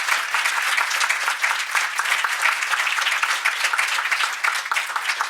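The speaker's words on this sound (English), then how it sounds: "A quick round of applause for all of them." A roundtable audience gives its panelists a round of applause, a brisk, even burst of many hands clapping at close range and holding steady for several seconds.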